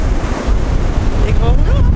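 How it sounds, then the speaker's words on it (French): Big storm waves roll and break at Trestraou beach, a loud continuous roar of surf mixed with heavy wind buffeting the microphone. "Des gros rouleaux, hein."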